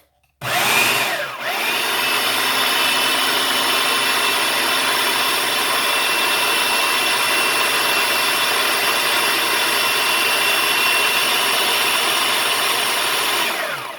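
A blender purees sweet potato pie filling in a home kitchen, a steady loud motor whir that starts abruptly and runs continuously for the whole stretch with no talking.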